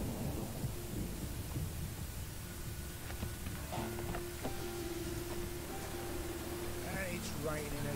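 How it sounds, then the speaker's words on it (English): Rain and rumbling thunder in the video game The Witcher 3 form a steady, dense wash throughout. Voices talk over the storm, along with scattered small game tones. "It's raining again."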